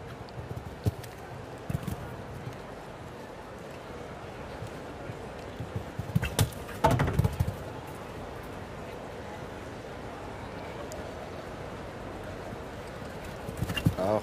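Horse hooves thud faintly on the footing of a show jumping arena at CHIO Aachen as a horse canters toward a jump, a steady muffled rhythm under distant crowd ambience.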